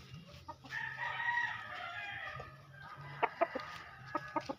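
A rooster, recently bought, crows in a long, drawn-out call, followed by a few sharp clucks near the end, with a low hum underneath.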